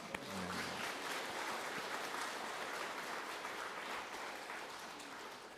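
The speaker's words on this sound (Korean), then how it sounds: "오늘 우리는 마음을 다해 하나님께 영광의 박수를 올려드려야 합니다." A church congregation applauds together, a broad, sustained wash of clapping that starts strong and slowly eases off toward the end.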